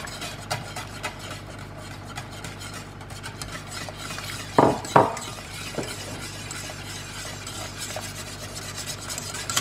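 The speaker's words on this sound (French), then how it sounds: "je vais arrêter de tourner pendant que je parle, sinon on va rien entendre." A spoon stirs thick panisse batter of chickpea flour in a pan over low heat on the stove, a soft continuous scraping with a few louder knocks near the middle.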